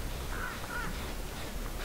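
Crows caw above the player in the Dead by Daylight video game, a couple of short raspy calls over a steady low game ambience, with no talking.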